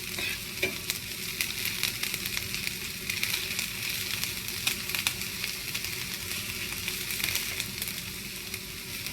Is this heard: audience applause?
no